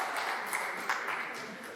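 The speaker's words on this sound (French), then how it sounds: "Allez, applaudissez très fort." An audience at a school quiz semi-final in Odienné applauds, a faint, steady patter of many hands clapping in a hall, heard at some distance with no clear talk over it.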